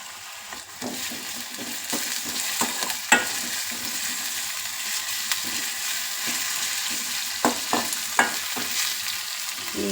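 Onions and green chillies fry in a pan for egg pulao, giving a steady close sizzle throughout with scattered sharp scrapes and taps from stirring, and no talk.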